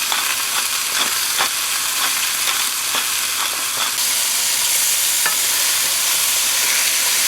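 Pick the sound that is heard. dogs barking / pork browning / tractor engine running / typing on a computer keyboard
pork browning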